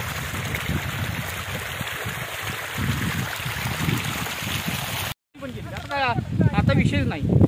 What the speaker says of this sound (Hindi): इन्होंने गन्ना लगाने के तुरंत बाद ही यहाँ पे पानी छोड़ दिया